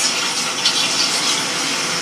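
Cold tap water runs steadily in a kitchen while lasagna noodles are being prepared, a loud, even gushing stream heard alone with no break.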